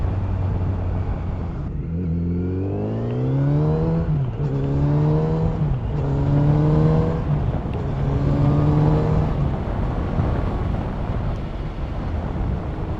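A 2020 Kawasaki Z900RS motorcycle accelerating through several gears, engine pitch rising and dropping with each shift, loud and close under steady wind buffeting.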